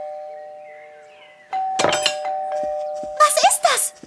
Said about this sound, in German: Nur die Türklingel.